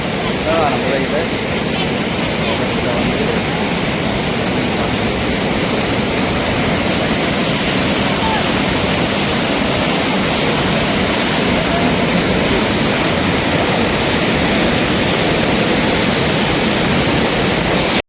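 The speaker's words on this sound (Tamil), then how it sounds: "தண்ணி எப்படி வந்து வந்துருக்குது பாருங்க." Floodwater rushing through a forest area near Thattaiyamalai, heard as a loud, continuous broadband roar that holds steady from start to finish with no pauses or talk on top.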